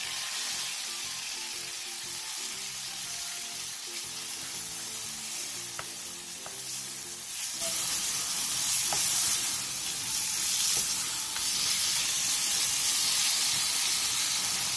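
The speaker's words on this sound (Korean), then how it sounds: "팬에 기름을 조금 두른 뒤 재워놓은 고기를 넣고 센 불에서 볶아주세요." Marinated meat stir-frying on high heat in a pan coated with a little oil, a steady loud sizzle that swells louder about halfway through, close by with no talking.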